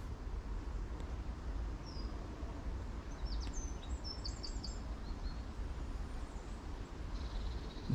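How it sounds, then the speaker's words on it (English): Faint wild birds chirp in short bursts over a constant low roar of distant traffic, on a park walk in Halesowen in the English Midlands. "See all the wild birds."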